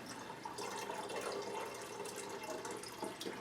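Water poured steadily to fill a Califia simulator device, a faint continuous splashing trickle with small drips, heard alone.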